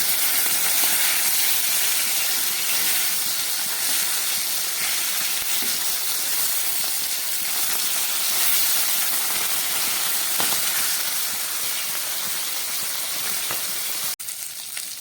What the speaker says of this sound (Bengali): উল্টে দিয়ে আবার ভাজছি